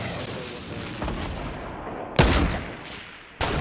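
Gunfire in a video game: two sharp, loud shots ring out about a second apart over a rumbling background of distant battle noise, each crack followed by a short decaying tail.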